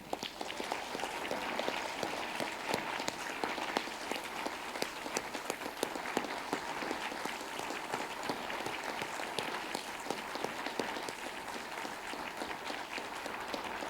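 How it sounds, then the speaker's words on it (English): An audience at an award ceremony claps and applauds steadily throughout, with dense, even clapping that never breaks into cheering. "can you just give him a round of applause real quick?"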